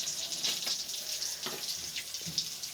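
Water poured into a pot of fish curry, a steady splashing trickle in a home kitchen with a few brief clinks and knocks.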